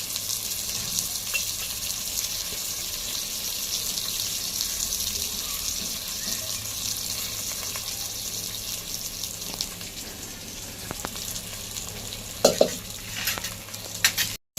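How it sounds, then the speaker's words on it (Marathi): Rice and green peas are stirred and sautéed in ghee, producing a soft, continuous sizzle with scraping stirs and a few sharper clinks near the end; no one speaks. "चांगले परतून घेऊया"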